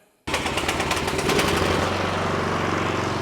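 After a brief silence, a Troy-Bilt Storm 2840 snow blower engine catches and runs loud and close, a rapid, rattling stream of firing pulses that holds steady to the end.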